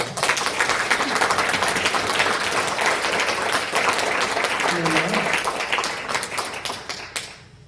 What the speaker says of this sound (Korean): 우리 사랑의 예수님께 감사의 영광의 박수를 한번 올려드렸으면 좋겠습니다